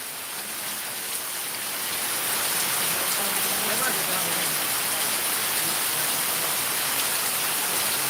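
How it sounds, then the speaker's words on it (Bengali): Heavy night rain pours down steadily in Sylhet, a dense close hiss of drops on surfaces that swells slightly louder after the first couple of seconds and continues unbroken. "এই যে দেখেন কি বৃষ্টি হচ্ছে, রাতের বৃষ্টি।"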